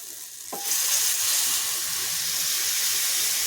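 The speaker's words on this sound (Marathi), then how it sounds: "थोडीशी कोथिंबीर पुन्हा परतून घ्यायचं" Chopped coriander hitting hot oil in a pan, a sudden loud burst of sizzling after a brief quiet start, then a steady close hiss with faint stirring underneath and no voices.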